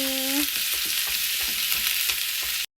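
Garlic and ground meat sautéing in a pan, a dense continuous sizzle with soft stirring scrapes, close and steady until it cuts off abruptly, with a brief tonal whine at the start.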